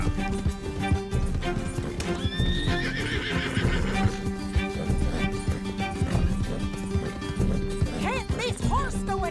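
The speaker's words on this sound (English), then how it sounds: "Can't this horse go any faster?" Horse galloping in the Red Dead Redemption 2 video game, rapid clip-clopping hooves with neighs and whinnies, mixed under game music and voices in an action chase.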